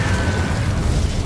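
Incendio fire spell cast in Hogwarts Legacy, a short, loud rushing burst of flame with a crackling, roaring texture, sustained over about a second with no voices.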